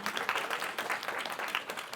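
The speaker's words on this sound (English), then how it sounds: "clap it up for that" Brief, fairly faint applause from a small audience at a panel talk on social media income, a short burst of scattered clapping with no speech over it.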